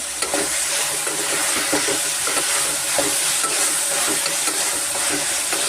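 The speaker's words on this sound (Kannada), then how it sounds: "ಮೆಂತ್ಯ ಟೊಮೆಟೊ ಸ್ವಲ್ಪ ಉಪ್ಪು ಹಾಕ್ಕೊಂಡು ಸ್ವಲ್ಪ ನಾನು ಫ್ರೈ ಮಾಡ್ಕೊತಾ ಇದ್ದೀನಿ" Fenugreek leaves and tomato with a little salt fry in a hot pan, making a loud, continuous sizzle with rhythmic scraping and tapping from stirring, and no voices.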